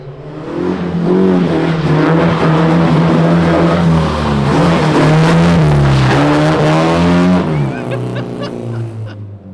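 A rear-wheel-drive swapped Honda Civic takes a corner on a wet lot, its engine revving loud and close with a sustained droning roar and a high squealing edge before easing off at the end. No talk is heard.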